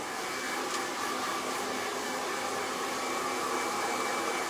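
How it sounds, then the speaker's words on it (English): A hair dryer blows in a steady, unbroken roar while rough drying hair before round-brush styling, loud and constant with no voices. "So I'm going to go ahead and just get her rough dried a little bit."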